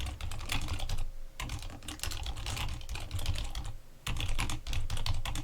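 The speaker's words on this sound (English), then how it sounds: "Even typing a meaningful commit message in." Rapid keystrokes on a computer keyboard while a commit message is entered, dense clicking in two runs split by a brief pause, close and crisp.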